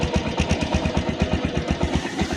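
TVS Stryker motorcycle idling close by, its engine thumping in a steady, even rapid pulse throughout with a hissy mechanical clatter on top.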